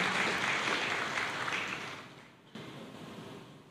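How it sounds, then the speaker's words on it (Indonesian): A church congregation applauds during a sermon, a quiet, rushing wash of clapping that fades over a couple of seconds before a faint low tail remains. "Berikan tepuk tangan yang meriah buat Tuhan."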